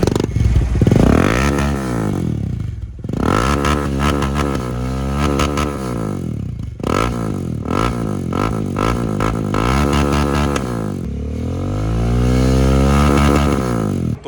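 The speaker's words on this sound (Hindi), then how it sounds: "तो अभिषेक भाई ऑन करो बाइक को" Bajaj Dominar motorcycle fitted with an Akrapovic exhaust, running close and loud with repeated throttle blips and revs that rise and fall, a raspy exhaust note and some mechanical clatter.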